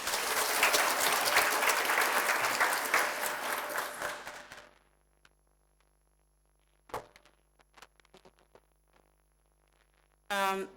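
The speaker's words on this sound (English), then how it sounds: "can I just ask you to give a round of applause to Ilri?" An audience applauds loudly for several seconds, and the clapping gradually fades out. A few scattered thumps and knocks follow before a brief burst of noise.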